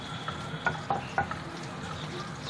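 Long-sliced ginger and green chillies stirred into frying vegetables in a pan, a steady close sizzle broken by several soft scraping stirs and light clinks, with no talking.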